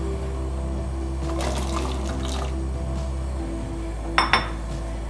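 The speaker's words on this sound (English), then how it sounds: "in this pan, I've got some boiling water and I'm going to add our carrots" Carrots go into a pan of boiling water, with a steady low bubbling hum throughout and two sharp metallic clinks near the end.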